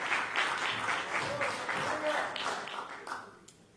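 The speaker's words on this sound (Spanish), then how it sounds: "denle un fuerte aplauso al Rey." Church congregation at a missionary service giving a loud round of applause, a thick continuous patter of many hands with a few cheers mixed in, tapering off toward the end.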